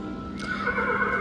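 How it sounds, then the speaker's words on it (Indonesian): A mechanical horse neighs from an interactive horse-picture exhibit on a trip to Jogja: a loud, close whinny that rises after a brief start and holds its wavering pitch to the end, with no talk. "ada juga yang gambar kuda, terus nanti kudanya bunyi"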